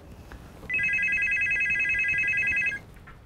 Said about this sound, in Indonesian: Dengar nggak? Suara HP saya itu.